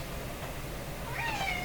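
A house cat lets out a single wavering meow, fairly faint, over low room noise near a workbench where an old AM radio is being repaired.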